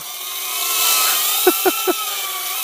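A Lieber Birdy LB-16 beginner FPV quad with 7mm brushed motors and ducted fans flies in cold weather. It gives a steady, close, high-pitched whine with shifting tones, broken near the end by three quick rattling knocks.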